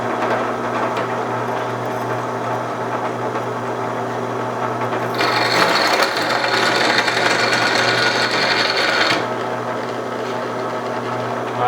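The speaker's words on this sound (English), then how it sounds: "So I'm going to go ahead and turn the drill press on, and we'll go ahead and drill this first piece out." Drill press boring into a steel suspension arm piece for a homemade go-kart: a steady motor hum throughout, joined midway by a harsher, brighter grinding of the bit cutting metal for about four seconds, then the hum alone again.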